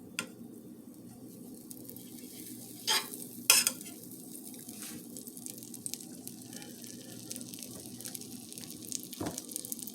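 Butter sizzles faintly in a frying pan while grilled cheese is being made, a quiet steady crackle broken by a few clinks and scrapes and one louder knock near the middle, with no voices.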